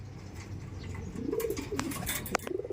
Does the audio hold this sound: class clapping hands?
no